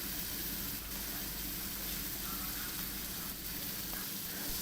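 Butter pieces sizzling with fried spices in a hot pan, a steady, loud frying hiss that continues unbroken throughout.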